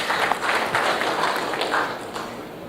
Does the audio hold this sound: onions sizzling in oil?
no